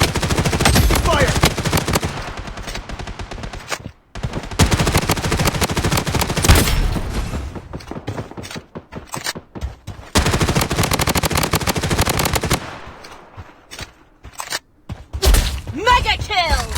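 Rapid automatic gunfire in the BloodStrike shooter with an INP-9 weapon, loud sustained bursts broken by short pauses, thuds and impacts, with game voice callouts over the shooting.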